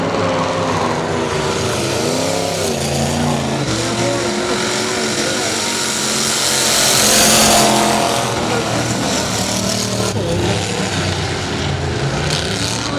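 Race cars roar past at Saratoga Speedway, engines rising and falling in pitch as they pass, loud and continuous, with one car sweeping closer and louder midway through.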